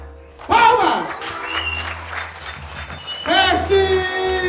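Audience clapping at a circus show mixes with a performer's loud voice, which calls out in two bursts over a low backing hum and a steady patter of hands.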